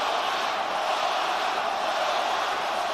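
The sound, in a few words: boxing crowd of 17,000 chanting Loma at MGM Grand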